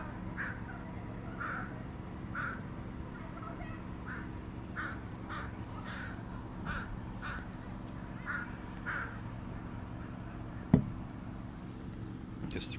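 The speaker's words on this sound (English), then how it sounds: "Guess the crow has an opinion." A crow caws repeatedly in evenly spaced calls, somewhat distant and moderately loud over a steady low hum, with a sharp click near the end.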